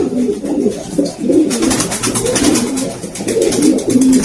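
Pigeons coo close by in repeated soft, throaty rolling calls, several birds overlapping continuously with no talking.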